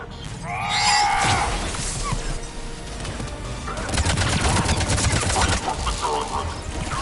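Rapid gunfire bursts crackle through a heavy firefight in Mass Effect 3, dense and sustained, with sharp impacts and brief electronic chirps layered over a constant battle din.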